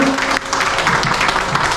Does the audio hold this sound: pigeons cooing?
no